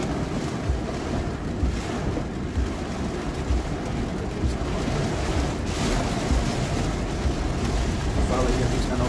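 Floodwater sloshes and rushes against the side of a car stuck in a flooded street in Belo Horizonte during heavy rain, a dense continuous wash with wind-like buffeting close to the microphone.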